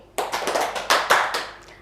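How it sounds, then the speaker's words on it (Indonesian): A group of children clap in a classroom teaching practice session, giving a short series of distinct claps, roughly four to six sharp strikes, fairly close and moderately loud, with no talking over them. "Tepuk empat kali."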